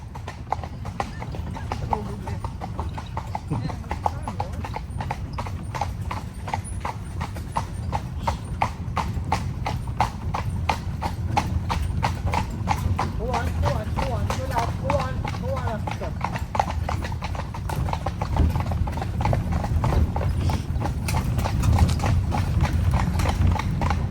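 Steady, rhythmic clip-clop of horse hooves pulling a carriage at Ballyfin Demesne, continuous and close throughout, with people talking intermittently over it.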